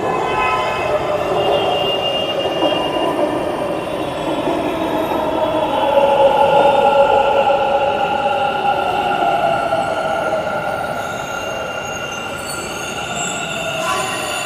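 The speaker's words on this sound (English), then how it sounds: "the metro is about to come" A metro train rolls into a station with a steady rumbling roar and a faint high squeal of wheels, holding loud and even for the whole stretch while a voice speaks faintly underneath.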